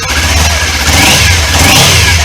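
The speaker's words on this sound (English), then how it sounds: "Let's rev the shit out of it." A loud motorcycle engine with stock exhaust revs continuously from cold at close range, its low rumble rising and holding with a steady mechanical drone and no voices.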